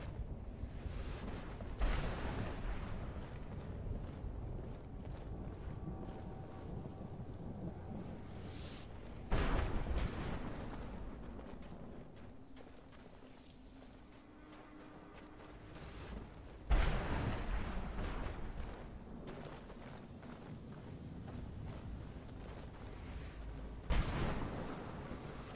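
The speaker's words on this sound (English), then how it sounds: "All right, Serana, where are those explosions coming from?" Explosions in the video game Skyrim boom at regular intervals of roughly seven seconds. Each is a deep, distant thud with a rumbling tail over a constant low ambient drone.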